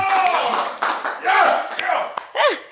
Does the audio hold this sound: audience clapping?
yes